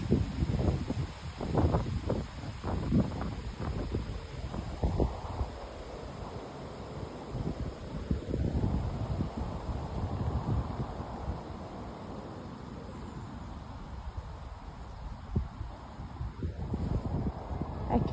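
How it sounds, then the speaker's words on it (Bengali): Wind blows outdoors in England as a soft, continuous rushing noise with uneven gusts and low buffeting against the microphone, steady for the whole stretch. "মনে হয় আপনারা শুনতে পাইতেছেন বাতাসের শব্দটা"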